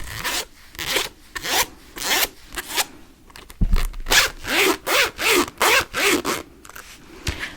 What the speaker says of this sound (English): And it does have the nice zipper that goes all the way around as well.